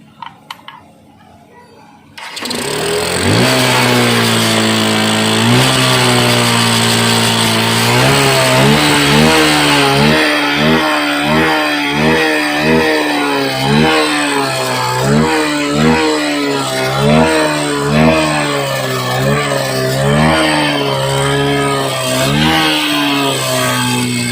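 A Hero Xtreme motorcycle with an immobilizer starts in emergency mode after a short quiet moment, then idles loudly and close while the throttle is blipped in rapid repeated revs.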